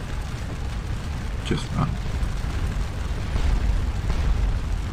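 Cannons fire canister shot in the Scourge of War Waterloo game, a dense, rumbling roar of booming blasts that swells over several seconds, with a brief voice heard early on.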